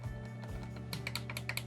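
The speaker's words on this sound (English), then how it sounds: "It's nice and clicky there and bounces back, so it's not a loose hat." A hat switch on an Echo Aviation flight controller clicks in quick, light, close taps, a short run of crisp clicks over a faint steady hum.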